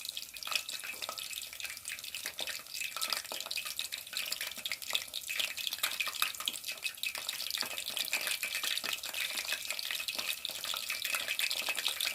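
Egg-coated mini kebabs fry in a pan with a constant moderate sizzle full of tiny spitting crackles, steady and close, and no one speaks.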